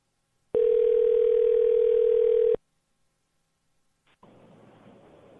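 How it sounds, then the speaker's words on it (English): A steady electronic ringback tone on a phone call holds for about two seconds, loud and alone. Silence follows, then faint line noise comes in. "It's ringing."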